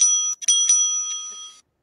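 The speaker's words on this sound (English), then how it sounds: "The timekeeper will ring the bell once to show the start of the preparation time" A timekeeper's small hand bell at a debate final rings twice in quick succession, a bright sustained metallic ding that rings on and fades, close and alone.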